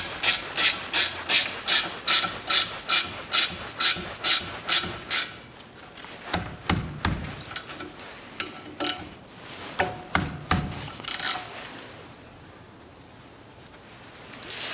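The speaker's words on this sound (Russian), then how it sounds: "Закручиваю болты направляющие." Front brake caliper guide bolts being tightened on a 2013 Mitsubishi ASX 1.8, with a run of rhythmic ratchet clicks for about five seconds, then scattered metallic knocks and rattles, close up with no speech.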